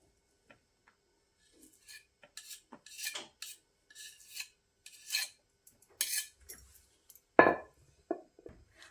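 A kitchen knife slides under and lifts sweet shankarpali dough, giving soft, irregular scraping and rubbing sounds with light taps, ending in one sharper knock near the close. No voices are heard.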